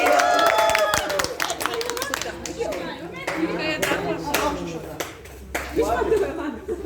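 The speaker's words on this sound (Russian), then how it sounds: "и ваши дружеские прощальные аплодисменты." A crowd claps steadily in loose, uneven farewell applause at an evening event, near and lively, with some murmuring voices mixed in.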